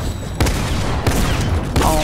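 Gunfire in Fortnite during a Hype Cup match: three loud bursts of shots spaced roughly half a second apart over a dense, continuous layer of game noise.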